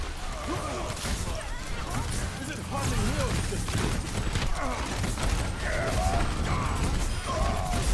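Baptiste's gunfire in an Overwatch-style shooter, rapid mechanical bursts and impacts mixed into a dense, busy game soundscape with a steady background roar, while a person talks over it.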